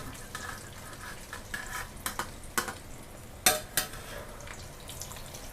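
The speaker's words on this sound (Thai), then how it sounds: "เราก็จะเร่งไฟเพื่อที่จะให้มัน ไล่น้ำมัน ไล่น้ำมันมันค่ะ" Thai-style omelette cooking in hot oil over raised heat, with soft sizzling under scattered clinks and scrapes of a spatula or utensil against the pan, a few sharper knocks standing out.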